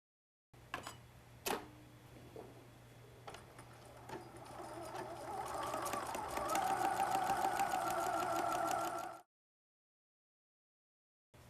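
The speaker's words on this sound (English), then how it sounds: "I'm going to reverse my stitch, lock it in place, and trim my threads" A sewing machine stitches along a ribbon edge while sewing a drawstring bag casing. A few short, separate clicks and bursts lead into a close, steady mechanical run of rapid stitching for several seconds, which then stops abruptly.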